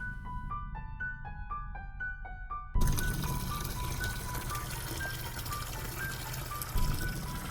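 Water pours from a Halloween skeleton prop's mouth into a tub, a steady splashing stream that begins abruptly after a stretch of bell-like chiming tones, continuous and moderately loud.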